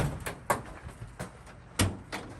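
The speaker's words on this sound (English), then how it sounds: "We're going to need to pop this door open." A 2005 Freightliner Sprinter van door is popped open in a repair workshop, producing a series of close latch clicks and clunks spread over about two seconds.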